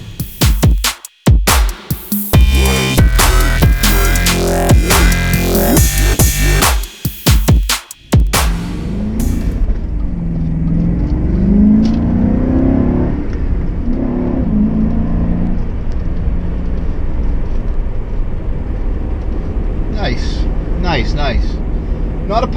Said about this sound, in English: Downshifts nicely.